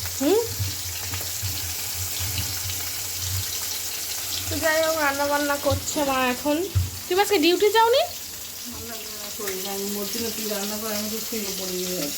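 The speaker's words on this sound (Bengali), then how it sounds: "মাছ ভাজা চলছে" Fish fries in a pan in a home kitchen, a constant hissing sizzle heard close up, with voices talking over it through the middle.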